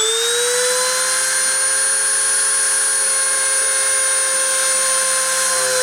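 A machine spindle whines at high speed near 30,000 RPM, a loud, steady, piercing tone with layered harmonics that holds constant, close and alone, without speech.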